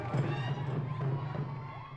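A crowd of royal watchers gathered for the Queen's visit to Buffalo in 2005, a steady murmur with some cheering and shouting, voices blending into a busy outdoor hubbub.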